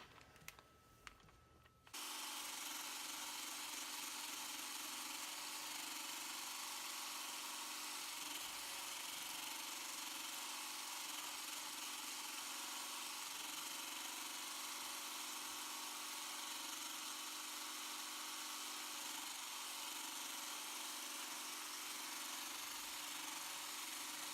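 An electric hand mixer whips body butter in a bowl, starting after a short quiet lead-in and then running at a steady, continuous high-pitched whir, close and alone.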